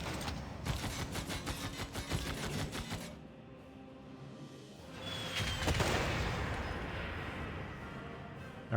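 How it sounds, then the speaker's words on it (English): Artillery bombardment in Civilization VI: rapid booming volleys for about three seconds, a lull, then a heavy rumbling impact and crackling debris, loud and close with no talk. "I'm going to bomb it. I'm hitting it with all my artillery."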